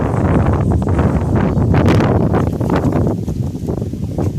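Strong outdoor wind buffets a microphone in a steady, loud rumble with gusty surges and faint rustling, no voice present.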